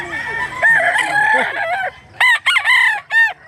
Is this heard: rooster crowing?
yes